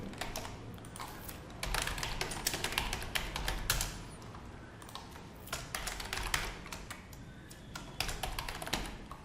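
Rapid typing on a computer keyboard during a Python Tkinter coding tutorial, with bursts of close, crisp key clicks separated by short pauses, no voices.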